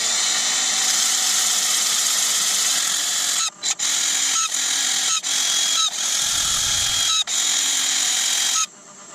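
A power drill runs steadily and loud through a woodturning session on a hazel bowl, its high whine broken by several brief stops and restarts, ending with a short pause before picking up again.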